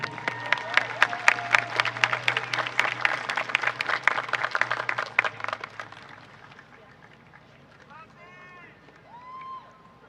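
A graduation audience at Mission Oak High School breaks into a burst of dense clapping from many hands, loud and sustained for several seconds before thinning out, while a voice speaks over the tail end.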